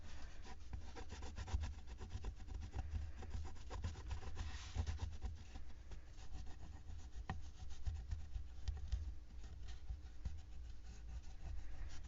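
Sandpaper rubbing along the edges of a painted fabric-covered journal, a steady close scratchy abrasion running continuously with quick back-and-forth strokes.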